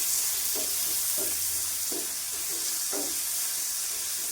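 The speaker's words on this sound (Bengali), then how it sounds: "দিয়ে দিব কাঁচা আম, পরিমাণ মতন লবণ দিয়ে দিব, দিয়ে ভালো করে ভেজে নিব।" Green mango pieces with salt frying in a pan, a steady broadband sizzle running throughout with a few soft stirring scrapes at regular intervals, close and moderately loud.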